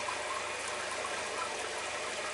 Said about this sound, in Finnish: Ajaa vähän aikaa tätä vettä vielä tästä.